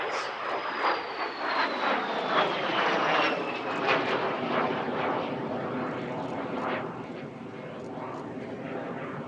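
An ex-Swiss de Havilland Vampire jet flies past at an airshow, its loud engine roar carrying a falling whine as it passes and then fading steadily into the distance.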